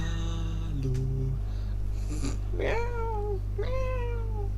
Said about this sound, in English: Meow, meow, meow, meow. Yes, we hear you, Scotty, we hear you.